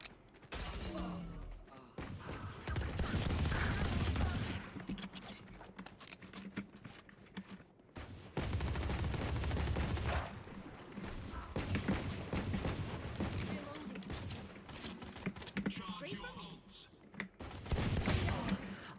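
Dense bursts of Valorant gunfire crackle and rattle in rapid volleys with impact thuds, mixed with in-game effects, while a player talks over the action.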